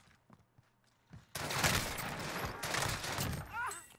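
Rapid bursts of automatic rifle fire, a FAMAS in the Warzone video game, crackle loudly and continuously after a quiet start, with brief voices heard beforehand.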